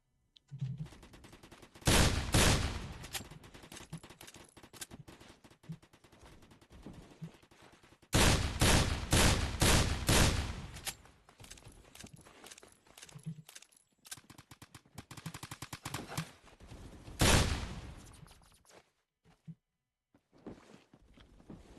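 Bursts of rapid automatic gunfire from the video game Phantom Forces come in several loud volleys separated by quieter stretches, with scattered single shots in between.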